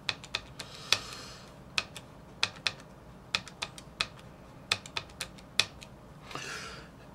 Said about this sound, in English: so I'm going to type it into my calculator.